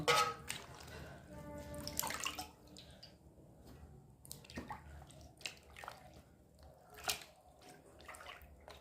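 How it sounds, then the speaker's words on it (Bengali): Feet are washed in a basin half full of water, giving soft splashes, drips and sloshes close by, irregular and fairly quiet, with some voice in the background. "পাটাকে ধুয়ে নেবো এই আধ গামলা জলে"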